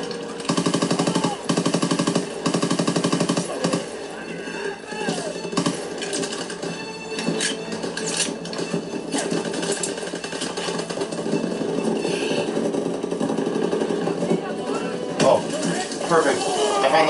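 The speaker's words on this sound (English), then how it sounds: "Someone get on the MG!" Machine gun fire in the Call of Duty WWII video game, with dense rapid bursts and explosions in a loud battle scene, with shouting voices over the gunfire throughout.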